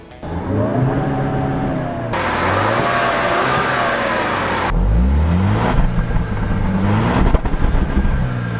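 A 2018 Jaguar E-Pace with a 246-horsepower 2-liter turbo engine climbs the steep Gold Mine Hill off-road, its revs rising and falling loudly and close as the drivetrain works up the slope.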